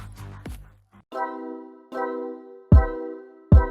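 A notification bell sound effect rings out in a short sequence of clear, tonal chimes, each ding ringing briefly before the next, with a couple of heavier struck accents near the end.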